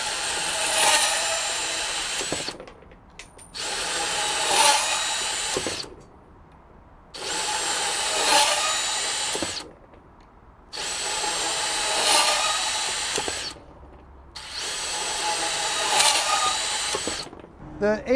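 A DeWalt 20V Max compact band saw (DCS377Q1) with an 18 TPI blade cuts 1/2 inch EMT conduit in five separate bursts of a few seconds each, with short quiet gaps between the cuts.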